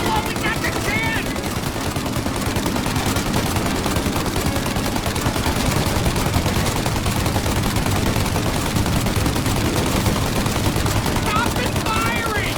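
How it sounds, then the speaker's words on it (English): Sustained gunfire fills a shootout in the video game Mafia, with dense rapid bursts of automatic fire continuing loud and unbroken throughout, while voices shout over the clatter. "Shoot now while we got the chance!"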